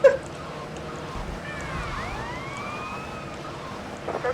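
A police car siren in the video game GTA Vice City wails faintly with a couple of rising and falling sweeps, low in the mix beneath steady in-game background noise.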